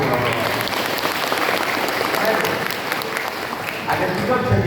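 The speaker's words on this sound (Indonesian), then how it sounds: "Kita kasih tepuk tangan dulu." Sustained audience applause at a parenting seminar, a thick, steady roar of many hands clapping that fills the whole stretch, with faint voices mixed in.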